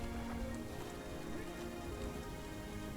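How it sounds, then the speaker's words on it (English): Heavy rain pours steadily onto a surface during a passing storm, a dense unbroken hiss with scattered droplet patter, loud and constant throughout with no voices. "This seems like it might be a quick passing storm, but it is raining pretty hard."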